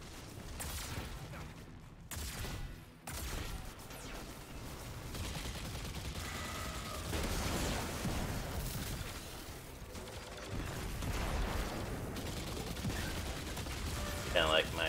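An arc turret fires in Destiny 2 on the planet Nessus, giving sustained rattling, mechanical bursts of game gunfire with crackling zaps over an ongoing game soundscape for most of the stretch.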